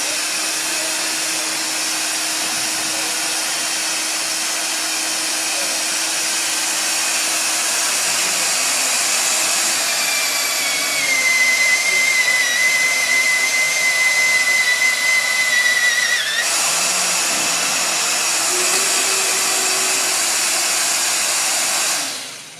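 A European-standard magnetic drill runs an annular cutter through metal, a loud, steady motor roar with a hissing edge, joined midway by a sustained high cutting whine before the load eases.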